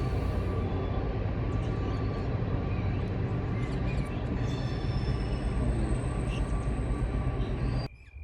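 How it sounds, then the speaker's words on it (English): A train rumbles past nearby, a steady loud roar of wheels and engine that holds for several seconds before cutting off abruptly. "Oh, there's a train going past."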